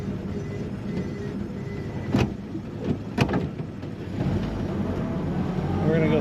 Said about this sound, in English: This car starts up and idles and purrs nicely.